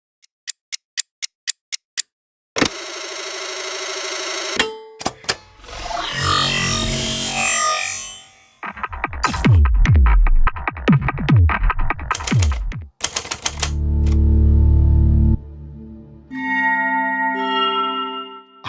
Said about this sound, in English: New from UVI, they've released Click Effects.